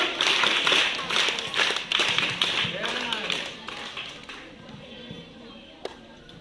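Audience applause at a school day event, many hands clapping close by in a dense burst that fades gradually over several seconds, with scattered claps and room noise toward the end.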